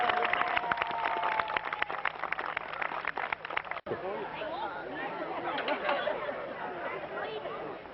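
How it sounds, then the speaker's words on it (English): Audience at a local heritage book launch clapping for a painting judge, scattered sharp claps under chatter and crowd murmur, moderately close and fairly quiet, followed by general hubbub. "so give him a big clap"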